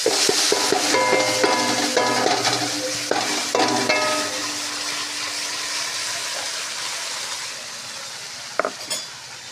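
A blended spice paste fries and sizzles in a wok while being stirred, with metallic clinks of the spoon early on. The sizzling gradually settles into a softer hiss, with one sharper clatter near the end and no speech.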